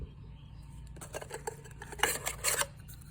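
Metal clinks and light rattles from handling a small alcohol stove and cross-beam pot stand: a few soft taps, then a cluster of brighter clanks close by, fairly quiet with no talk.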